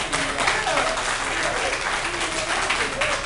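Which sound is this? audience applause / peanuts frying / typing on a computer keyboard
audience applause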